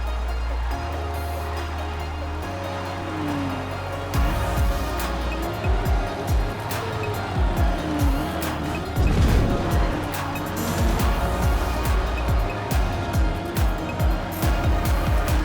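Race car engine in a video game, a steady drone that shifts pitch through accelerating runs and wall-ride transitions, with squealing, changing revs and bursts of impact noise, loud and continuous.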